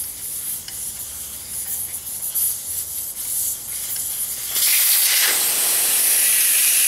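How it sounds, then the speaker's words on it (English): Air hisses from a bicycle tire valve stem with the valve core out, a steady bright rush that swells louder and fuller partway through and stays strong to the end. "The valve core will come out, and the air will come out of the tire."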